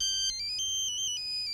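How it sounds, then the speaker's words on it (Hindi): A phone ringtone for an incoming call in a Hindi film scene plays high electronic melodic tones that shift pitch in short steps, clear and on its own. "रंभा का फोन है।"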